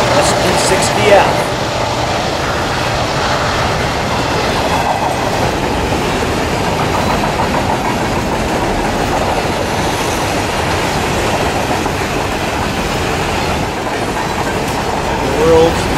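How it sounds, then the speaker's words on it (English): A long eastbound freight train of empty grain cars rumbles past in Vonda, Saskatchewan, steadily with a continuous rolling roar and faint rhythmic clatter of wheels, sustained throughout without letup. "The world's longest train of empty grain cars eastbound towards Humboldt and points beyond."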